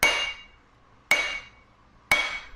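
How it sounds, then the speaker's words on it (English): A ball-peen hammer's rounded face strikes the hardened steel face of an eBay-bought anvil three times, about a second apart, each blow a loud, close, bright ring that decays slowly. "hitting it with the ball side of this hammer"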